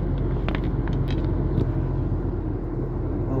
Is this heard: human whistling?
no